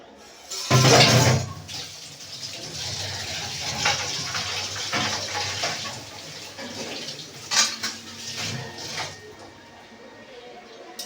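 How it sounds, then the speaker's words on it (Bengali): Coconut soaking water poured into a cooking pot, a wet splash and gush with clattering pot and utensil knocks, close and fairly loud, with kitchen clinks continuing afterward. "সেফ এই নারকেল ভেজা জলটাই দিতে হবে"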